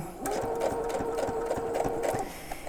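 A sewing machine runs steadily for about two seconds, its motor hum laced with a fast needle clatter, then winds down and stops, close and fairly loud with no talking.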